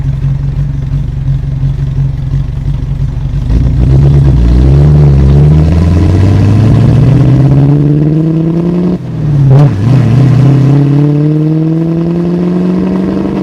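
A 1987 Land Rover Defender engine runs steadily under way, then climbs in pitch through the gears with a short dip and a renewed pull as it accelerates, loud and close throughout.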